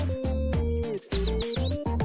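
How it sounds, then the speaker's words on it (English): Birds chirp in a Blue Archive video game scene, thin rising tweets repeating over a steady bed of game music, fairly clear and close. "The music of birds playing,"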